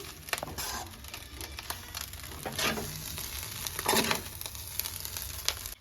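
Fried eggs being stirred into egg rice in a hot pan, with steady sizzling and frying under repeated scraping and stirring strokes, close and fairly quiet, with no speech.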